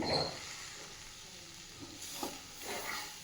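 A spoon stirs a thick sesame and coconut laddu mixture in a pan, giving soft, faint scraping and stirring strokes that recur at intervals.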